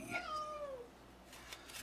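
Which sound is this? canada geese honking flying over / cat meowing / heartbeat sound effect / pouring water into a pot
cat meowing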